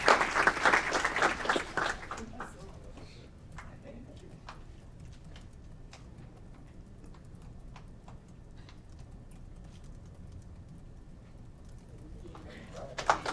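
At a city council meeting during an awards segment, a short round of applause opens the clip and fades to a few scattered claps over a quiet room with soft background sounds. A second brief burst of clapping comes at the end.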